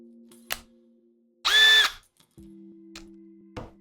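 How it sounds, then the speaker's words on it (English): A Milwaukee M12 cordless drill driver whirs in one loud, steady burst of about half a second, with a rising start and an abrupt stop, set between quieter clicks and handling sounds in a woodworking shop. "like the Milwaukee M12 drill driver, which uses the same size hex."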